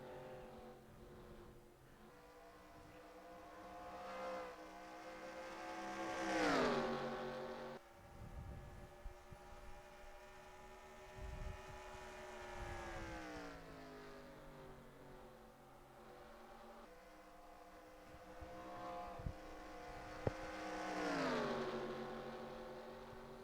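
NASCAR race cars in the NASCAR Racing 2003 game roar past at Chicagoland, engine notes rising and falling through repeated upshifts and flybys, fairly quiet overall with no voices.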